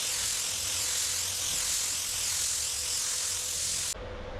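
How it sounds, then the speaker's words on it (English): An aerosol can of rust treatment sprays in one long continuous hiss at close range, stopping abruptly near the end. "while I'm in the mood for rust treatment spraying"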